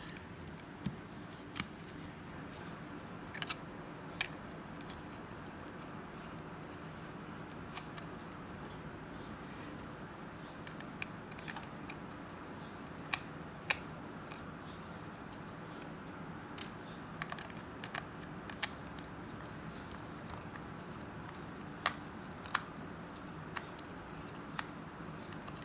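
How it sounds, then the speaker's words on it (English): Faint scattered clicks and small metallic ticks at irregular intervals as three screws are backed out of a CB radio with a screwdriver, quiet and close against low background hum. "Take these 3 screws off."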